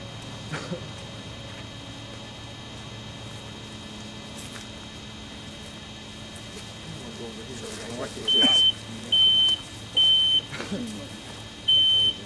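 A smoke detector shrills in four short, piercing, evenly spaced beeps near the end, cutting through a steady rumbling background during a live fire burn in an enclosed room.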